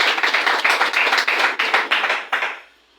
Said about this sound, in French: Nous devons également applaudir Mbamon Koulouyono, qu'on doit applaudir.